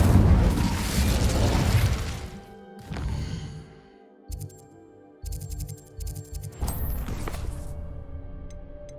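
Incendio fire spell cast in Hogwarts Legacy: a loud whooshing burst of flame at the start that fades, followed by quieter clicks, chimes and mechanical game sounds in a mostly calm space, no talking.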